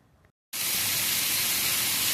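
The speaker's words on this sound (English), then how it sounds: "frying up some chicken in this little propane cooker that we got" After a brief silence, a loud steady sizzling hiss starts and holds as chicken fries in hot oil on a small propane cooker close by.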